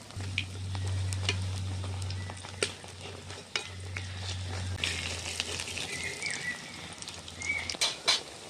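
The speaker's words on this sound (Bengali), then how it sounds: "এরকম করে সব পেঁয়াজিগুলো আমি ভেজে নেব।" Onion fritters (piyaji) fry in hot oil in a street-stall style, giving a quiet, constant sizzle with occasional stirring clatter and faint birdsong in the background.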